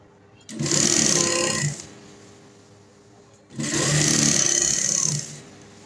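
A sewing machine stitches a folded trouser hem in two loud, fast-running bursts of about a second each, separated by a quieter pause with a low hum, close to the listener.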